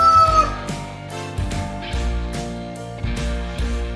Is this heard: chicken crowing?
yes